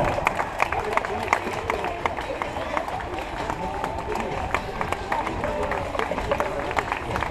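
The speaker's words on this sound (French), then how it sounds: "on l'applaudit bien fort" Spectators clap for runners crossing the finish line of the Foulées de l'éléphant race, with scattered sharp claps and crowd murmur over continuous outdoor ambience while an announcer talks throughout.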